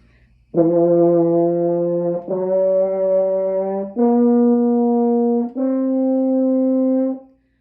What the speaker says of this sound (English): So that's C open, D first, F first, G open. And they sound like this.